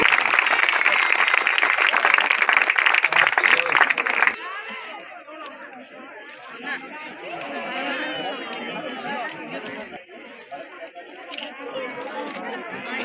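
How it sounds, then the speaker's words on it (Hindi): Loud, dense clapping and crowd noise from an audience welcoming a guest at a Rashtriya Gramin Jan Vikas Yojana office inauguration in Bundi, lasting about four seconds before cutting to quieter murmuring chatter. "सर के स्वागत में बहुत जबरदस्त ताली होनी चाहिए"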